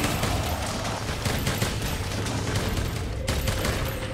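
A bowgun with a Safi's Aquashot build fires continuously at Safi Jiiva's head during a Monster Hunter World: Iceborne fight, a dense, loud, unbroken barrage of rapid shots and impacts filling the whole stretch.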